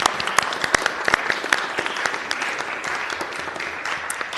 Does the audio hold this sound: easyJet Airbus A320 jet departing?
no